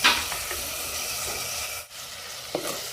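Tomatoes, green chillies and curry leaves frying in a pan for a chicken curry, a steady close sizzle with a few stirring scrapes and a short dip in the middle, no speech.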